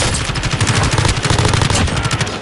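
Sustained, loud automatic weapon fire from Call of Duty Warzone, a dense stream of rapid shots close up throughout, with no talking.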